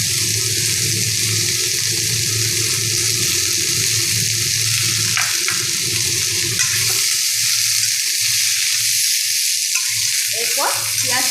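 Diced potato and pointed gourd fry in a pan over low gas, giving a steady, close sizzle with occasional stirring scrapes and clinks toward the end.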